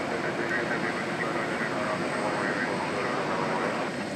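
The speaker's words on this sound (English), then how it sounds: "it's going in the right direction for a full-length runway 18 left takeoff." A jet airliner rolls for a full-length takeoff from runway 18 left at DFW airport after dark, its engines a steady, broad, distant roar that holds even throughout.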